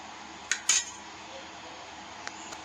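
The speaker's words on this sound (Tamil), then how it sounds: "கொத்தமல்லி போட்டு மூடி வச்சுக்குவோம்." A metal lid is set on a pot of village-style country chicken curry with coriander, giving two quick close clinks followed by a couple of faint taps.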